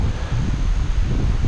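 Wind buffets a microphone outdoors on a forest trail, a loud, continuous low rumble and roar with no one talking.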